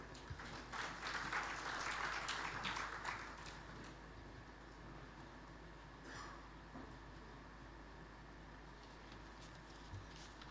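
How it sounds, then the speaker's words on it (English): Audience applause at a national forestry workshop in India, a steady clatter of many hands clapping that swells for a few seconds, then fades into quieter room noise. "Let's welcome him for his address with a round of applause from all of you."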